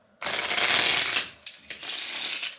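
A deck of playing cards shuffled during a card game, one long loud riffle of crisp rapid flutter followed by a few shorter bursts of cards being squared and bridged.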